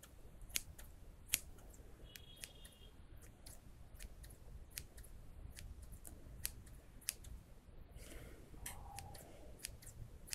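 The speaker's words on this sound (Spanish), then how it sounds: "Seguimos cortando dos puntitas." Scissors trim the ends of hair in a close, quiet setting, giving a series of sharp, crisp snips spaced irregularly over a soft background hiss.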